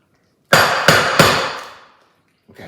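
A wrapped segmented treat is banged hard three times on a surface, each sharp loud knock landing about a third of a second apart and ringing briefly before fading, followed by a soft rustle.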